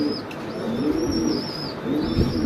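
A pair of African Mundian pigeons coo softly and repeatedly at close range, with a faint tweet in the background and no talking.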